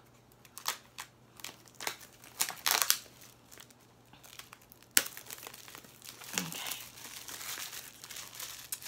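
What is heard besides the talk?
paper wrapping torn off an oracle card deck box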